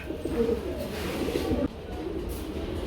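Pigeons at a pigeon sale give soft, low cooing calls over a steady murmur of background noise, fairly quiet and close, with no talking.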